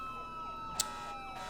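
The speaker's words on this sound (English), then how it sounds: "Let me get rid of the emergency sirens." Emergency sirens from Syrinscape, played during a Cyberpunk RED tabletop session, wail in sweeping rising and falling tones. A short sharp click cuts in midway.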